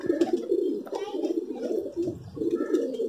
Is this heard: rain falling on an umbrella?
no